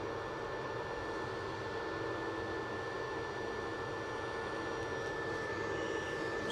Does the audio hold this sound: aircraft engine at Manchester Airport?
yes